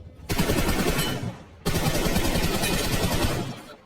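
Automatic gunfire in the BGMI mobile battle royale game rattles out in two long, dense bursts separated by a short gap, loud and close, with no talking over it.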